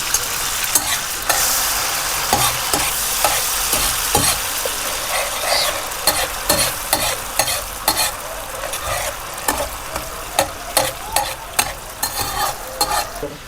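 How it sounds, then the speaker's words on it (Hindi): Ground tomatoes go into a pan of kaleji masala and get stirred, a loud steady sizzle with clattering spoon scrapes repeating through the frying, no talk. "तो अभी इसके अंदर टमाटर डालने लगा हूँ।"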